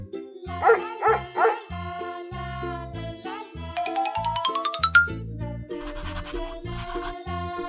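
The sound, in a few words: dog barking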